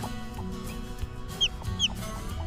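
An Australorp chicken chick gives two short, high peeps close by, over a low, steady background with faint clucks from a hen.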